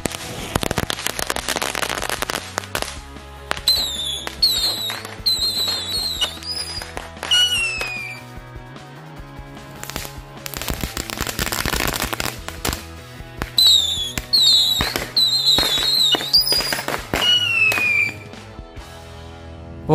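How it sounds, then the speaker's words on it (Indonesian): Thor-brand firework rockets whistle upward with rising shrieks, then burst in rapid crackling bangs, two volleys in close succession, loud and near. "jadi yang pertama kita nyalain mercon luncur Thor."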